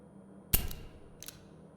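Two dry mechanical clicks from an empty revolver in a video game, a sharp one followed by a softer one about 0.7 seconds later, close and isolated against quiet.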